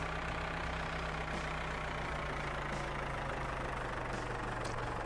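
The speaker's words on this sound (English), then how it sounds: "Oh, I forgot how slow this tractor was compared to the green one." Tractor engine idling in the farming video game Professional Farmer 2014, a steady low rumbling drone that holds constant and moderately loud throughout.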